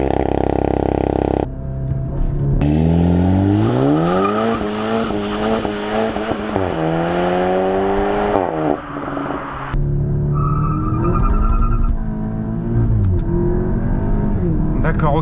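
VW Golf TCR roars through a full-throttle launch-control start, engine pitch climbing in repeated rising sweeps through the gears, loud and close inside the car, with voices speaking over it.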